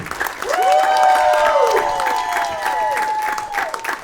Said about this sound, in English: Start clapping right now for your first comedian.